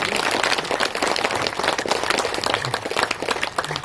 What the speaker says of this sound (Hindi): सभी अपने लिए एक बार जोरदार तालियां बजाइए